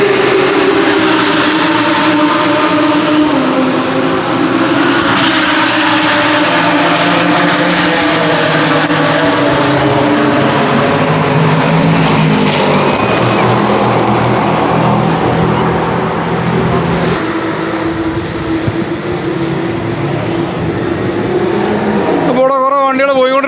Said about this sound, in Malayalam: വണ്ടികൾ പോയിക്കൊണ്ടിരിക്കുന്നുണ്ടോ ട്രാക്കിൽ.